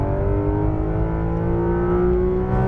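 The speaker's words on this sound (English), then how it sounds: "Full throttle." Sports car engine at full throttle on a racetrack in Las Vegas, a steady loud roar with rising pitch as it accelerates hard, close and continuous throughout.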